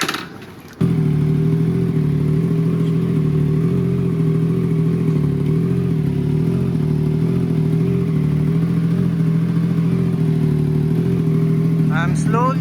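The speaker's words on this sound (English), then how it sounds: "The pro tip is you can actually start up your bike." A Triumph Trident 660 motorcycle engine starts up after a brief pause and settles into a steady, loud, close idle that runs unbroken to the end, with a faint clatter near the close.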